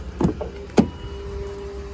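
Power running board on a 2007–2014 Ford Expedition retracting after the door closes, two sharp close clunks followed by a faint, steady motor whir as the board tucks back up, with no talking.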